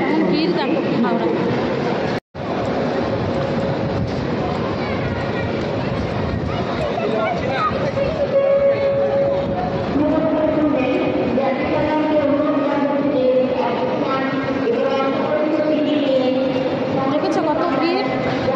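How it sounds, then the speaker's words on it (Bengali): Crowds and trains fill the busy Howrah railway station: a continuous roar of rolling rail noise, hum and tonal squeals, with a crowd's babble and talk layered throughout, briefly cut out near the start. "ব্যস্ত স্টেশন, সব থেকে বড় পৃথিবীর ব্যস্ততম স্টেশন হাওড়া স্টেশন"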